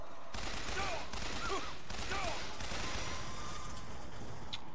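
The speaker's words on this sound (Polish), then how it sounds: "Brzmiało jak wieżyczka." An automated turret in BioShock Infinite fires a sustained rattling burst of gunfire that stays loud and continuous, with faint whistling tones mixed in.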